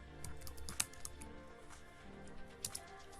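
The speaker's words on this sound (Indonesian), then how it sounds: "Kemudian di sini kita ketik supplier." Soft typing on a computer keyboard while a product search is entered, with a few scattered key clicks and taps over a quiet background hum and no voices.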